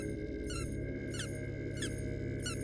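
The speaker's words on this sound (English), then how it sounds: "I heard multiple squeaking." Boofie creatures in the horror game Boofie's Bunker let out four short, high chirping squeaks spaced evenly apart, heard over a faint steady background hum.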